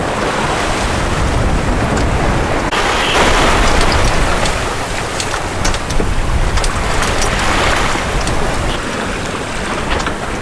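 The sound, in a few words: sailboat Odyssey gliding downwind on gentle swell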